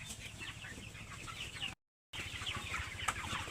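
Chickens clucking on a poultry farm, soft scattered clucks over a low steady hum, cut by a short silent gap before the clucking resumes, with no one speaking.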